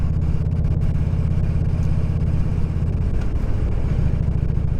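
A motorcycle riding on the road, its engine a loud, steady low rumble close by that holds continuously throughout, with no speech.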